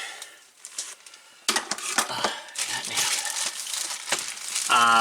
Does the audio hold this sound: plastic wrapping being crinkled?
yes